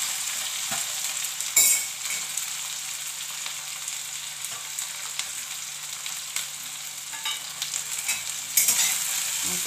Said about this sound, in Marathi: परतून घेते ना